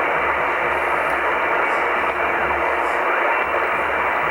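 A shortwave receiver tuned across the 10-meter amateur band at 28–30 MHz gives a steady hiss of band noise and static with faint warbling, no clear voices.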